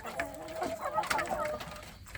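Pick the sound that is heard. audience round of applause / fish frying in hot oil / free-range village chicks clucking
free-range village chicks clucking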